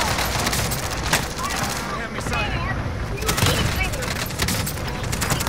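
Video game combat brings heavy, rapid automatic gunfire and booming shots in dense overlapping bursts, loud and constant, with voices talking over it.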